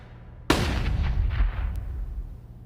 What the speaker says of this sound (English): Oh, Rez with the burst fire.